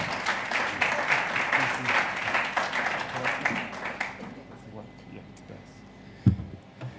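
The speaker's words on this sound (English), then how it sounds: "A round of applause." A health-tech investor summit audience applauds a keynote speaker being introduced, with crisp, plentiful clapping that thins out after four seconds, leaving scattered claps and a thump of handling noise before the room quiets.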